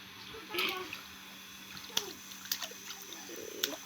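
Water sloshes and splashes gently as a baby bathes in a basin, with small intermittent splashes and drips while someone talks softly to the child.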